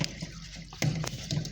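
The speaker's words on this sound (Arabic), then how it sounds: "بس قلت اوريكم لو سمعتوا صوت الميه معايا" Water draining out of a leaking top-load automatic washing machine, a close, steady splashing gush with faint clunks and no talking.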